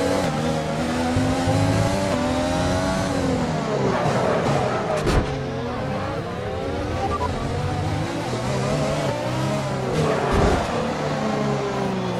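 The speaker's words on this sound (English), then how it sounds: "You'll be racing as you leave the pits." A Formula One car pulls out of the pits in the F1 2020 racing game, its engine whining up through the gears in repeated rising sweeps with short breaks at shifts, loud and continuous throughout.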